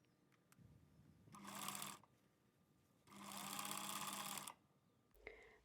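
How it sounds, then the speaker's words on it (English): A sewing machine top stitches around a folded trouser hem in two bursts, the first short and the second longer, separated by a quiet pause, with a brief clatter near the end. "Press and then top stitch all around the hem."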